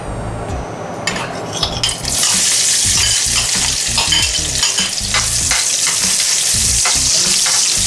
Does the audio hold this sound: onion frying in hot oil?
yes